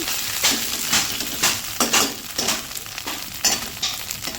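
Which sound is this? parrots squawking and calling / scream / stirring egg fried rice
stirring egg fried rice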